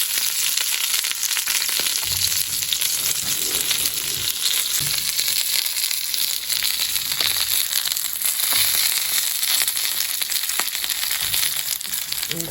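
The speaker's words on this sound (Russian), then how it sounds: "Ух, как шкварчит все." Dumplings frying in a pan give off a steady, loud, crackling sizzle that runs unbroken throughout, with faint low clatter underneath.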